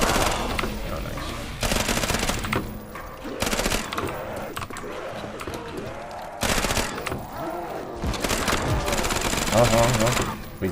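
Repeated gunfire bursts from a zombies video game, loud, dense stretches of automatic shooting that stop and start across the clip, with game noise and a voice talking in between.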